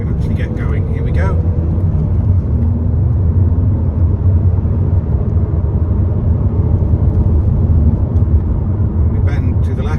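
A car pulls away on a national speed limit road, its engine note building as it accelerates, steady and close with road rumble, a voice talking briefly at the start and end.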